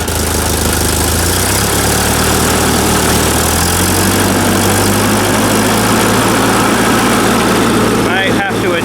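A 1944 Ford 2N tractor engine runs loud and close with a steady low rumble, settling from a higher speed to a smooth, even idle without rattling.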